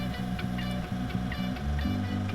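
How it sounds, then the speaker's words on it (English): A steady low mechanical hum drones throughout, with a faint pulsing rhythm in the low range and soft ticks above, from a kitchen oven fan running. "That noise you can hear is my oven."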